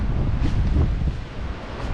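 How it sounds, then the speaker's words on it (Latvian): Steady wind gusting across an open riverside landscape along the Daugava, a constant broadband rush buffeting the microphone with no voices, filling the whole stretch at an even, fairly loud level. "Daugava tā ir vēja zeme un paldies vējam, jo bez vēja te būtu grūti."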